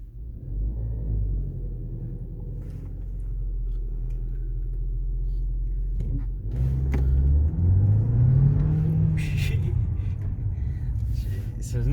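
A VW Golf MK6 with a DSG gearbox idles with a low rumble, then its engine note swells into a hard launch and rising acceleration, close and loud, with people talking over the engine.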